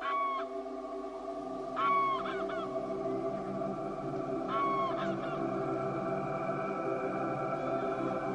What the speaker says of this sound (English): Grey-legged geese fly in for breakfast to search the rich marshland areas.